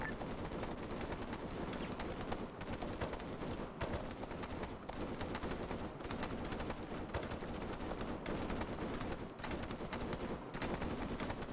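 Sustained machine gun fire in the video game Arma 3, with dense bursts of automatic gunfire rattling continuously throughout at a steady loud level, no talk over it.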